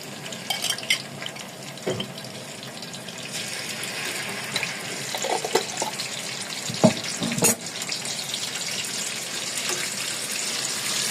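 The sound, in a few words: tomato frying in hot oil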